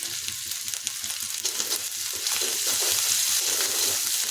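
Ginger and green chili paste fry in oil over a low flame with salt and turmeric, a steady close hiss with soft stirring scrapes that grows slightly louder midway, no talking.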